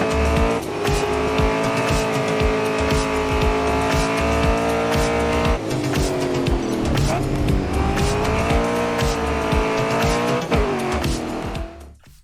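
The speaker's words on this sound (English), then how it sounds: "This is Grid 2 Custom Edition high graphics 64-bit racing game." Racing gameplay from Grid 2 running on a TV box, with steady loud engine drone, shifting revs and a tire squeal, continuous throughout before fading out at the end.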